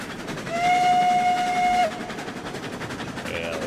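A small loaded train in the RailRoads Online video game runs under throttle. A clear whistle blast lasts about a second, then a quieter rolling rumble of the train continues.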